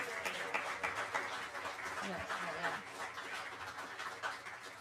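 A live audience applauds pianist Ethan Leinwand at a boogie woogie piano showcase, a steady wash of clapping that fills the room throughout, with voices murmuring underneath.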